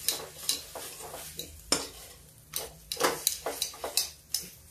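Half a spoon of gram flour is roasted and stirred into a gravy in a pan. A spoon scrapes and clinks against the metal in uneven strokes over a faint sizzle, close by, with no voices.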